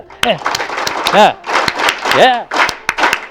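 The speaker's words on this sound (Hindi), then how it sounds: "उनके लिए ताली तो बजाओ अच्छी सी" Schoolchildren clap in sharp, scattered bursts, mixed with excited voices and chatter close by.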